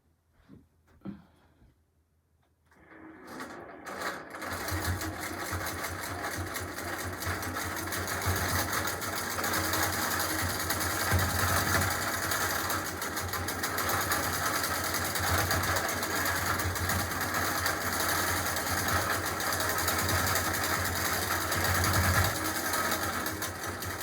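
An Innova longarm quilting machine with Pantovision T2 stitches a quilt border, starting after a short quiet moment and then running as a steady, close mechanical hum and whir for the rest of the clip.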